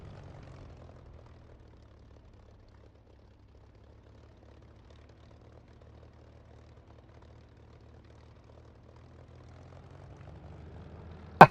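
Propeller aircraft engine in the DCS flight simulator game, a steady low droning hum at moderate volume that fades slightly mid-way and swells again at the end, with no voices.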